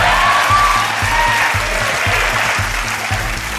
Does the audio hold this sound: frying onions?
no